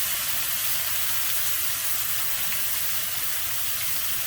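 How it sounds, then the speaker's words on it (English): Broccolini and cauliflower with salt and pepper saute in melted butter, giving a steady, close, continuous sizzle and hiss throughout with no talking. "We're gonna saute this for about 3 minutes or so, just to get them a little bit of color"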